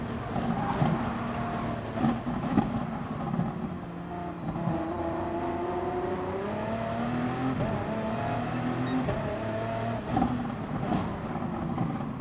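A race car engine in Gran Turismo Sport screams near the top of its revs in sixth gear, repeatedly bouncing off the rev limiter with a wavering, stuttering whine and brief dips, loud and continuous.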